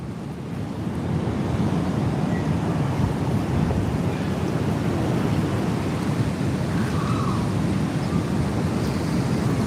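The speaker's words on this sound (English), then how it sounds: "Listen to the sound of the ocean." Steady ocean surf rolls and washes continuously, with wind rumbling across the microphone and no voices.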